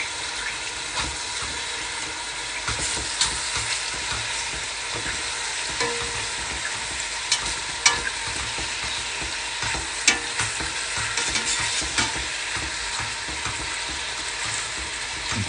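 Beef for bœuf bourguignon browns in a hot pan while being turned, a sustained close sizzle with frequent clinks and scrapes of the utensil against the pan, steady and without speech.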